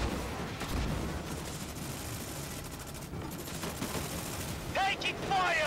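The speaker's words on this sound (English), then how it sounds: "Taking fire." Gunfire from the video game Disintegration rattles in dense, fairly faint bursts and volleys, with sharper metallic zaps near the end and a voice talking over it.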